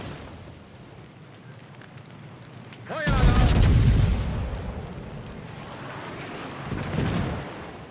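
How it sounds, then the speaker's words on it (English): Heavy secondary guns of the German battleship Pommern in World of Warships fire in a loud burst of booming volleys, then a rumbling tail and another cluster of shots over steady game background noise. "I'm trying to change the angle of my ship to be able to get the secondaries to start firing"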